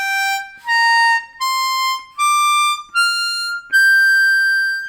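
Up in the top octave, a harmonica plays a minor pentatonic scale as six distinct sustained notes rising one after another, bright, loud and close, with no voice.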